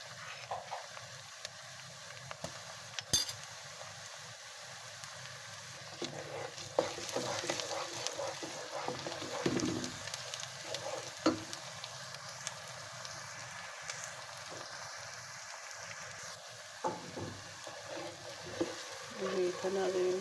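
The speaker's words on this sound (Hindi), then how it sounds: "जी, तो नाज़रीन हमारा लहसुन अदरक भी सौते हो गया है, और गरम मसाला भी फ्राई हो गया है हमारा अच्छे से।" Garlic-ginger paste frying with golden onions and garam masala for a keema, pea and potato kachori filling, giving a steady sizzle with occasional stirring scrapes throughout.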